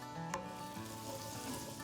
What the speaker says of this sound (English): Now I've got half a stick of butter sizzling in a pot